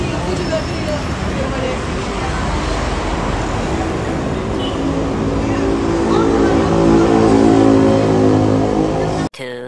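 Roadway traffic at a Transjakarta bus stop in Jakarta, with cars and buses passing. A loud, continuous roar swells toward the end and then cuts off abruptly, and voices can be heard under the noise.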